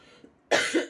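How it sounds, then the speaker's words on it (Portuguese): A single short cough from one person, close and fairly sharp, after a brief quiet moment. "E a tosse continua por aqui"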